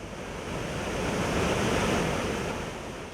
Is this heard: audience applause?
no